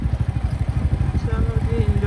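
A motorcycle engine throbs steadily at low pitch while riding through a polluted evening street, a close, rhythmic rumble with faint traffic around.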